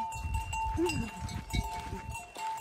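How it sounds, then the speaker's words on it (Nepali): Cowbells ring on grazing cows on a windy hillside in Jumla, a clear bell tone recurring a few times over low background rumble and faint movement. "गाईको घन्टी सुन्न पाउँछ"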